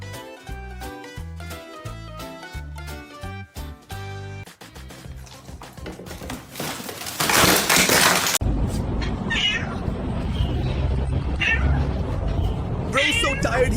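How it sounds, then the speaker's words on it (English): A worn-out cat gives several loud, drawn-out meows close to the microphone, following a stretch of music, with talking mixed in around the cries. "Bro's so tired he can only meow."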